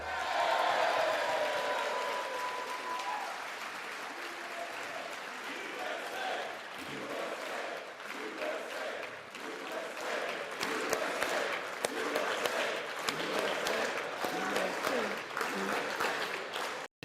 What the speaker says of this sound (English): With thunderous applause.